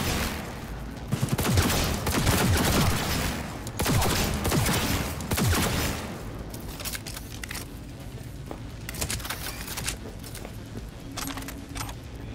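Rapid bursts of gunfire in the Cyberpunk 2077 video game, dense clattering volleys in the first half that thin into scattered individual shots toward the end.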